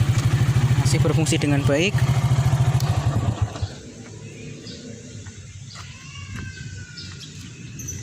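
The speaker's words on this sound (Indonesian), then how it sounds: "Nah, kayak gini nih starter engkolnya nih" A Honda Astrea motorcycle, about 25 years old, is kick-started, and its engine putters loudly close by for a few seconds before cutting out. Someone talks over the engine, and quieter background sounds continue after it stops.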